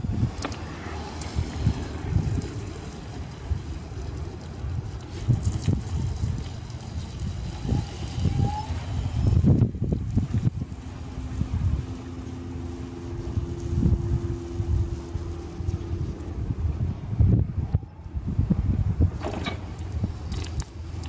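A Permobil M300 power wheelchair rolls over nuts scattered on the ground, giving scattered small pops and crackles over a steady low motor and outdoor rumble, with no talking.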